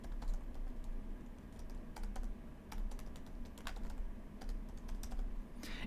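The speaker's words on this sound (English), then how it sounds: "Just type in your password." Rapid clicks of a computer keyboard as a password is typed in, irregular keystrokes coming in short bursts and pauses, close and fairly quiet over a low steady hum.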